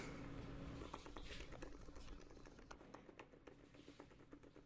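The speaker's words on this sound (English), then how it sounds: "I'm just going to do some typing because I need you guys to listen to how absolutely buttery this is" Quiet, soft keystrokes on a computer keyboard, a steady patter of taps that thins out toward the end, faint and close.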